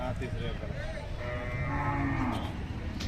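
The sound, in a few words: cattle mooing at market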